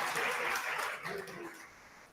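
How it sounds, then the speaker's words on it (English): An audience at a university undergraduate research awards ceremony gives a final round of applause, a brief burst of clapping that fades quickly. "Final round of applause for those outstanding folks"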